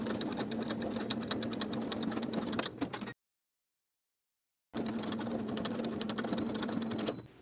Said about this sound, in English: we'll top stitch those side edges in place